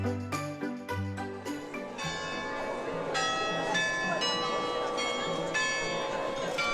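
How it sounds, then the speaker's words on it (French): Carillon bells in a belfry tower in Douai ring out a melodic tune, bright overlapping chimes with sustained ringing tones, loud and steady, with a crowd murmuring faintly beneath. "pendant que le carillon du beffroi interprète sa ritournelle"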